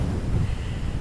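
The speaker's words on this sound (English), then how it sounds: "deafening you with the windy noise" Strong wind buffets the microphone at a seaside beach at high tide with big waves, a dense, continuous low roar at steady loudness with no voices.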